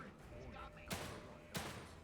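Two sharp gunshots from The Evil Within 2, a horror action game, crack about half a second apart over a low, steady background rumble.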